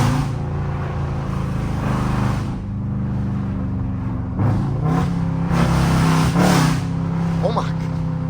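A Jeep with a 5.7 engine and a cold air intake revs with a steady low engine drone that swells in a few bursts, while people talk loudly over it.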